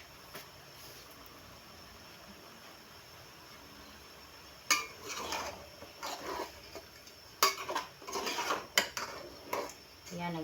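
Utensils clink and scrape against a pot while chicken tinola cooks at the side of a small home store, with scattered metallic knocks and stirring sounds after a quiet stretch, close and moderately loud.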